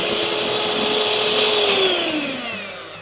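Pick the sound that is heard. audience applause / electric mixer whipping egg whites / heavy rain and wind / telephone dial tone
electric mixer whipping egg whites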